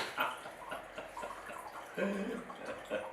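Water is poured into a glass of liquor in a short gurgling splash, close and fairly quiet, with voices heard briefly alongside it.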